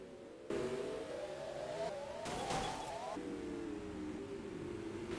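Race cars circle Star Speedway during a short-track race with six cars left running. Several engines drone and rise in pitch as they pass close by in a loud, continuous roar that swells in the middle, with a commentator talking over it.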